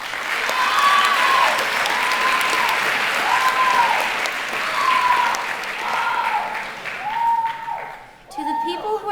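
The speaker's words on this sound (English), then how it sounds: "Please give them another round of applause." An audience at an eighth-grade promotion ceremony applauds, dense clapping that runs loud and steady for several seconds before tapering off near the end.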